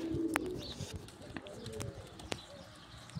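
Pigeons in a rainy, cold setting coo softly in low, throaty murmurs, with a few sharper chirps and clicks mixed in, close and faint over a light background hiss.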